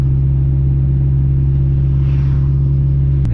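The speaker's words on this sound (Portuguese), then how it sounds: "E assim, parece que a turbina tá dentro do carro" A Fiat 147 Turbo drives along, its engine a loud, steady droning rumble heard from inside the car, with a faint rising turbo whine toward the end.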